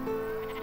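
A goat bleats in the farming game Farm Manager 2021, a single short, nasal, wavering cry heard clearly and close with no talk over it.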